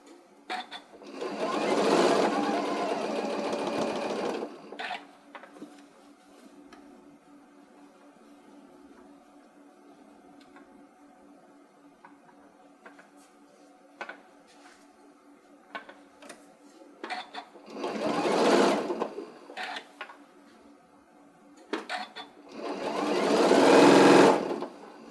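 Sewing machine stitching through fabric layers of a stuffed pumpkin, running in three steady whirring bursts of several seconds each, with quiet clicks and handling noise in the pauses between; close by.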